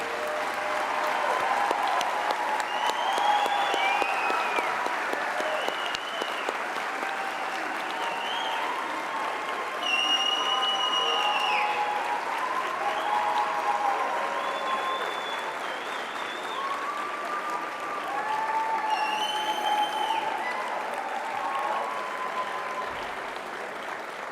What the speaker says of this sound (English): Let's give a round of applause to our 2022 Doctors of Dental Surgery